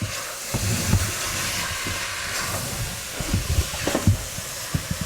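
Beef suqaar simmers in a pan with a continuous steamy hiss, broken by low bubbling pops and occasional utensil knocks, close and fairly loud with no talking.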